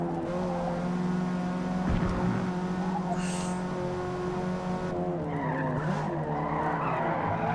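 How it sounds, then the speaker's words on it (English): A car in the video game Forza Motorsport skids under the handbrake, its tires squealing over a loud, steady engine drone that runs throughout. "I had to use the handbrake there"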